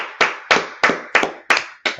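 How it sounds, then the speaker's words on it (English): A class claps hands together in six sharp, evenly spaced claps, loud and close, with no talking. "Okay, let's clap up for class."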